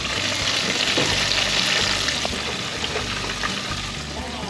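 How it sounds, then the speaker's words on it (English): Scrambled eggs cooking in a pan at a deer camp, giving a steady, loud sizzle and frying hiss throughout, with faint stirring scrapes layered over it. "I can cook eggs, y'all."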